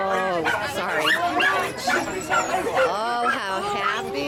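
On a rescue road trip, a dog yips, barks and whimpers in short, excited bursts close by, mixed with people talking.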